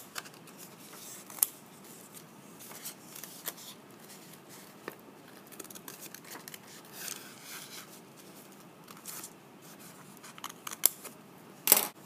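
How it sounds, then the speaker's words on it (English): Scissors snipping through folded paper while cutting out a symmetrical Greek vase shape, with faint scattered cuts and rustling quietly across the stretch and a few sharper snips near the end. "Then carefully put your scissors through it."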